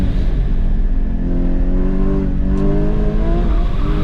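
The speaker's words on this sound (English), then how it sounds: "so much wheel spin" A Porsche GT4 (981) at an autocross, its engine droning steadily and close as the tires break loose and spin, with a continuous roar and no pause over the whole stretch.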